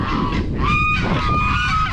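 An African goose honks loudly and close by in a farmyard, a couple of harsh nasal calls over steady outdoor background noise, with no talking.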